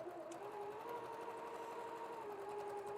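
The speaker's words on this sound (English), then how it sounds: "Now we're going to sew right down this chalk line." A sewing machine stitches along a chalk-marked line on quilt block fabric with a steady, close, continuous whirring hum. It runs alone, without talk.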